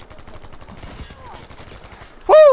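Rapid automatic gunfire rattles in a steady burst in the shooter game Battlefield 5, followed by a loud sudden shout-like sound at the end.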